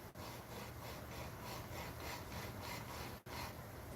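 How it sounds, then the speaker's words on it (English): A Predator 212cc engine valve is lapped with grinding compound, giving a soft, gritty rasping that repeats back and forth in a steady rhythm. The sound is quiet and close, with no voices. "you can hear the valve grinding compound,"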